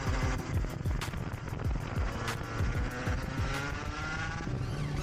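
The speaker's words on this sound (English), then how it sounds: "just to give you guys an idea of what a lap around Hooton Park is like at race pace" A race car laps the Hooton Park circuit at race pace, its engine droning loud and steady throughout with rising and falling pitch through gear changes and faint wind noise on top.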